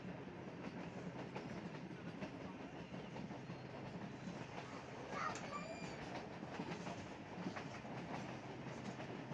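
A train runs fast between Quetta and Sibi with a steady, continuous rumble and rhythmic clickety-clack of wheels on rails, brief squeals rising midway, heard from on board with no talk.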